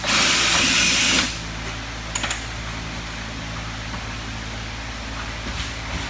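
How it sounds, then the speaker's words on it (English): A power drill whines loudly for about a second while boring a hole in a plastic bucket, then stops, leaving a steady fan-like hum and a few faint clicks. "Drill a hole about halfway in whatever bucket size you're using."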